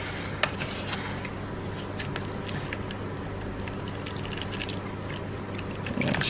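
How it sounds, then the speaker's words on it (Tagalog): Tap water poured into a mixing bowl for plaster, a steady, close rushing stream that runs without a break for several seconds, with no voices over it. "So, first is maglagay muna tayo ng tubig."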